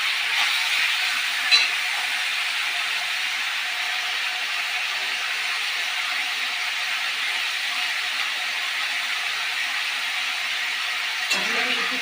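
Peas sizzle in a hot pan with a steady, even hiss that holds at one level the whole time, with a faint clink near the start and another near the end.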